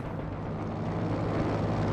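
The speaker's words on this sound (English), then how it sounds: "The recon plane in, looking for a target." A reconnaissance plane in the Company of Heroes 2 real-time strategy game flies in, its steady droning engine rumble continuous and fairly loud across the whole moment, with no voices over it.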